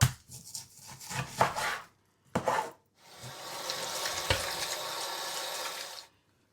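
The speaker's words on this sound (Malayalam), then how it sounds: "ഇതുപോലെ നല്ല അടിപൊളിയായിട്ട് അങ്ങ് സ്ലൈസ് ചെയ്തെടുക്കുക" A knife slices beef on a board while beef chops are prepared in a home kitchen. A few quick, close cuts come first, then a steady rushing hiss like running water.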